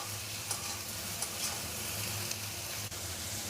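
Snake gourd frying in a pan for a Bengali vegetarian dish, with a steady soft sizzle and faint clinks of stirring, quiet and close with no talk.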